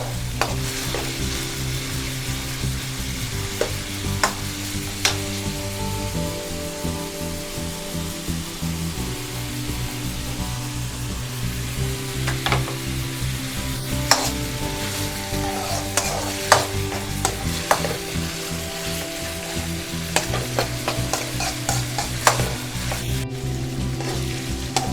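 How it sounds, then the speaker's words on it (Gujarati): Onions sizzle steadily in a hot pan while a spoon stirs them toward light brown for a Gujarati-style crab dish, with a continuous frying hiss broken by frequent scraping and clinking strokes, close up and without talk. "તો ડુંગળી આપણે હલકી બ્રાઉન થાય ત્યાં સુધી હલાવશું."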